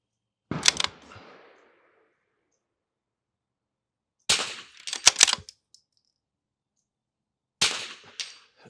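Three sharp rifle shots from a Vudoo Three 60 rifle on a shooting range, spaced a few seconds apart and loud and close, each with a brief echoing tail and a faint metallic clink after the later ones.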